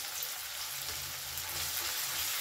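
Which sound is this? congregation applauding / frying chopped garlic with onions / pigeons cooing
frying chopped garlic with onions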